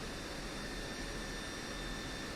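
The F-16C Viper jet engine idles while taxiing in the DCS World flight simulator, a steady even whine with faint tonal hums, quiet and continuous throughout.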